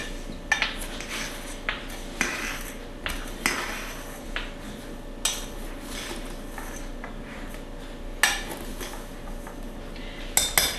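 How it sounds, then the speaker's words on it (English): Green tomato pie filling being stirred in a bowl, a spoon clinking and scraping against the sides in irregular knocks over a steady faint background hum. "Then you stir this up, kind of mix it a little bit."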